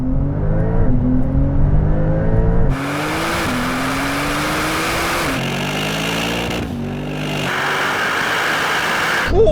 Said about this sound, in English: now we're going to have a rolling race from 50 kilometers an hour in second gear to the half mile